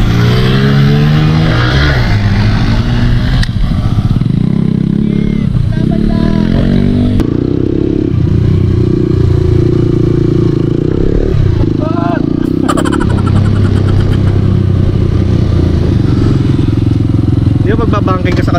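Motorcycle engine revving and running on a road during a riding session, loud and close for the whole stretch, with people talking over the engine noise.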